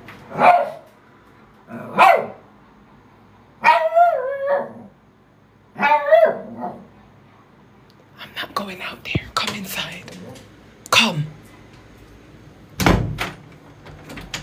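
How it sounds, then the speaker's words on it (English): Dog barking indoors in a house, several separate barks spaced a few seconds apart, close and fairly loud, with a person talking quietly between them. "Why are you barking in here now?"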